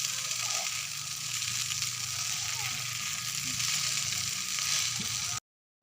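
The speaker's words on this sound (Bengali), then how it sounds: "কাঁটা চামচ দিয়ে ভালোভাবে মিশিয়ে নেব।" Noodles tossed with two forks in a hot pan, giving a steady, even sizzle and faint scraping that carries on alone before stopping abruptly.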